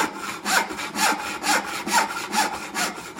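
A hand saw cuts dovetails in wood in steady back-and-forth strokes, about seven rasping passes, close and clear with no voices.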